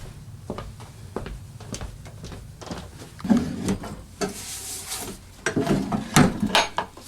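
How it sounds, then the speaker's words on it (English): In a VR housekeeping game, drawers slide open and shut in a run of wooden knocks, scrapes and thuds that grow louder toward the end, with no talking. "I'm going to check all drawers, remove any debris, any leftover lost and found items"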